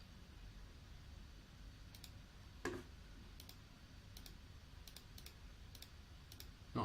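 Sparse clicks of a computer keyboard being typed on, scattered light taps over a quiet background hum, with one louder keystroke midway and another at the end.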